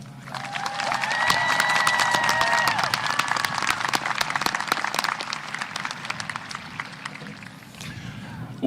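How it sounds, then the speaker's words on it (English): At a high school commencement for a class of over 600, the crowd applauds and cheers for the salutatorian. Thick, loud clapping swells with whoops and shouts, then thins out toward the end. "Please join me in a round of applause congratulating Anna for being the class of 2022"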